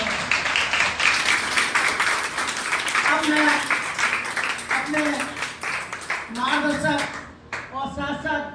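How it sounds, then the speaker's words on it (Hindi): Steady clapping from a crowd at a Teachers' Day celebration runs throughout, with a voice speaking over the applause in the second half. "तो इन लोगों के लिए एक बार तालियां बनती हैं।"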